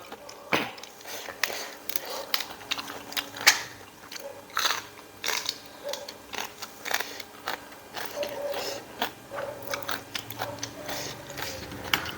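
Crunchy squid salad eaten with soft rice noodles is chewed close up, with steady crisp crunching bites repeating in an irregular rhythm and almost no talking.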